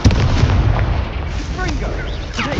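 Hogwarts Legacy's Confringo explosion spell bursts with a dense, rumbling blast amid ongoing battle noise, fiery crackle and whooshing effects, with no clear talk over it.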